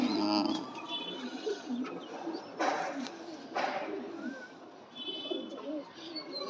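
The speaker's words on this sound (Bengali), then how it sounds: "মুখ্যি লাইনের পায়রা হ্যাঁ, সুন্দর পায়রা" Jan Aarden pigeons in a loft coo in soft, repeated throaty phrases close by, with a few brief chirps and faint voices in the background.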